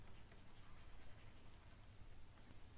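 A pen or marker scratches steadily across a board as equations are written during a molecular spectroscopy lecture. The scratching is faint and continuous, with no talking over it.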